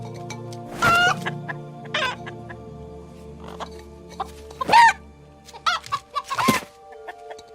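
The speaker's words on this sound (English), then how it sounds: "You sweet, beautiful chicken!" Several loud chicken clucks and squawks come in separate bursts close to the listener, with quieter fowl noises and a low steady hum between them.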